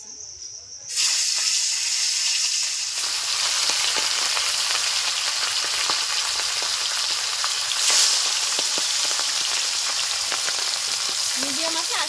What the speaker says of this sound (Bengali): তেল গরম হয়ে গেছে, মাছগুলো ভেজে নিচ্ছি।